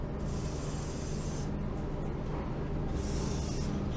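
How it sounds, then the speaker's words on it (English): Fast release penetrant sprayed from an aerosol can onto the door lock levers of a 1971 Triumph Stag, two close, steady hissing bursts separated by a short pause, without speech. "Fast release penetrant."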